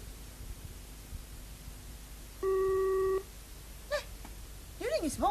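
A telephone busy tone sounds once as a short steady beep, between faint room noise and rustling, with brief vocal sounds after it.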